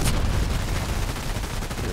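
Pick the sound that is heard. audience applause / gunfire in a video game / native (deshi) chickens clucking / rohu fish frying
gunfire in a video game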